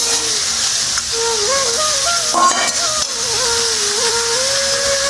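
Chunks of bottle gourd go into a pan of frying shrimp, raising a steady, close sizzle with scraping stir sounds over a constant hiss and a faint wavering tonal hum in the background.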